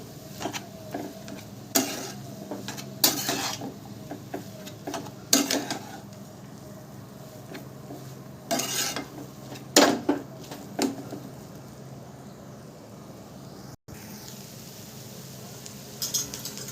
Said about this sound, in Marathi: बटाटा आता मस्त मसाल्यामध्ये, मिरचीमध्ये असं मिक्स करून घेऊ